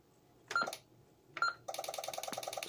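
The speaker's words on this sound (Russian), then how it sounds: "закладывает и набирает ваш номер" A fax modem dialing a telephone number with DTMF tones: two separate beeps, then a rapid steady run of dial tones, clean and close.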